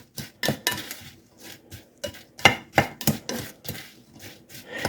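A utensil scrapes and taps against a dish while stirring apple pie spice through a casserole, giving irregular close clinks and scrapes in quick bursts with quiet gaps.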